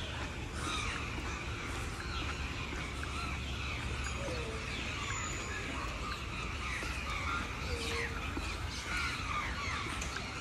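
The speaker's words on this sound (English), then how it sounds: "Wonderful sounds of birds." Birds call and sing around the Royal Lake in Yangon, scattered chirps and a few coos over a constant outdoor background hum, moderately distant and continuous.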